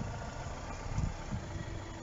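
A Lancia Delta GT-Line Turbo sits idling with a steady, low, even rumble close by, holding a constant level for a couple of seconds with no one talking.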